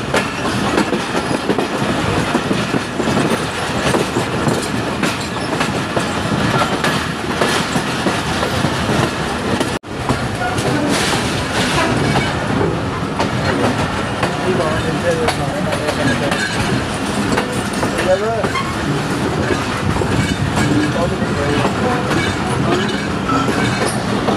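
A passenger train runs on the rails between Wazirabad and Sialkot, with a steady loud rumble and rhythmic clickety-clack of wheels throughout, briefly interrupted once, and faint voices underneath.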